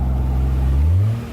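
A car revs hard while its Firestone all-season tires spin in a driveway, a loud, close engine roar rising steadily in pitch toward the end.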